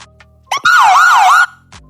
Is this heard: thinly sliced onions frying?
no